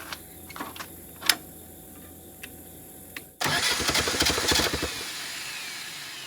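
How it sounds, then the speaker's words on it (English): A Willys CJ2A Jeep engine that runs a little rough is started. A few faint clicks and taps come first, then the engine catches abruptly into a loud, close, rattling crank-and-run burst that lasts about a second and a half and then settles quieter. "let's see if it'll start right back up now"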